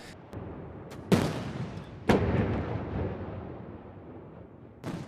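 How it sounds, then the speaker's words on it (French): Several heavy booms of a 56-cannon ceremonial salute ring out at spaced intervals, each followed by a long rolling echo across open air in a city centre in China. "56 canons représentant les 56 ethnies de Chine ont tiré son coup."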